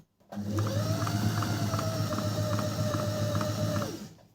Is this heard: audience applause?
no